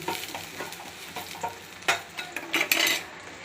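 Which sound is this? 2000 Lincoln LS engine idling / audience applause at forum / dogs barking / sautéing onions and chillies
sautéing onions and chillies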